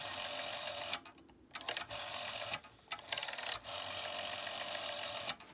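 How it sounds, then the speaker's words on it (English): Rotary dial of a 1970s GPO Compact telephone, a Silver Jubilee model, turning and returning with a scratchy, rasping whir, several dialling runs broken by brief pauses, close and fairly quiet, with no talking. "So the dial's a bit scratchy sounding."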